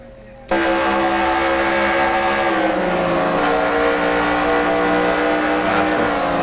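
Onboard engine roar of a NASCAR stock car, the number 3 car in NR2003 racing simulation at the Coca-Cola 600, sets in abruptly and holds a loud, steady high-rev drone with slight pitch shifts throughout.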